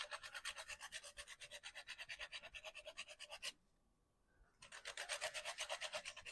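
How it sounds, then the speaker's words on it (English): Lemon zest being grated over a burrata-topped homemade pizza, a steady rhythmic rasping of quick scraping strokes, close and fairly soft, pausing briefly before resuming. "Burrata, I want to put a little bit of lemon zest on this too"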